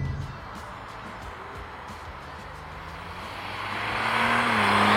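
Audi RS4 producing 600 Nm, driving with steady engine and road noise that builds toward the end, a rising engine tone audible over the roar.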